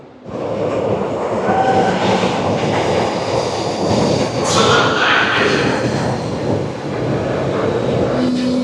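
A yellow Berlin metro train runs through an underground tunnel, giving a loud, steady rumble and whine that holds throughout, with a rising screech partway through and faint voices around.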